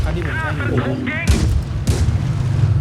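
Tank cannon shots in the World of Tanks Blitz video game: two loud booming blasts about half a second apart, following a stretch of speech-like game sound.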